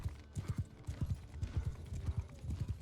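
Horse hooves clip-clop in a quick, steady gallop rhythm in Mount and Blade II: Bannerlord, a medieval battle game, the beats close and moderately loud with no talking over them.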